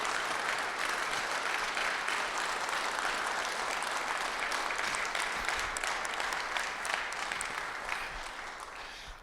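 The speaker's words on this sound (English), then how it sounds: "So could we just begin with a round of applause" An audience at a Rotary meeting gives a long round of applause honoring Cincinnati police officers, sustained steady clapping that slowly thins and fades toward the end.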